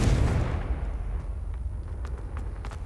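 The Confringo fire spell explodes in the Hogwarts Legacy video game, opening with a loud, deep blast that rumbles away over about two seconds, followed by a few faint ticks.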